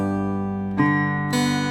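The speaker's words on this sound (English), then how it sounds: "you got your thumb and your middle finger on the outside strings and you pinch." Acoustic guitar strings plucked by thumb and fingers in a Travis picking pattern ring out as a few distinct notes, close and clear, with a pinch of two strings together, no voice.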